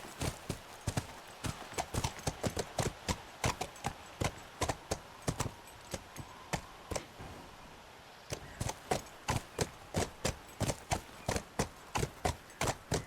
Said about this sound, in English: I hope we get to keep this horse